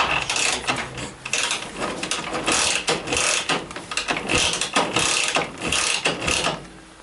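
A Dnipro 11 motorcycle engine, cold, with its chokes raised, sounds in a rapid mechanical clatter of repeated kicks or cranking that goes on for about seven seconds. The noise is loud and continuous and has no voices over it.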